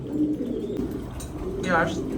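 A single female racing pigeon coos once near the end at a pigeon sale, a brief soft warble over steady background murmur and voices.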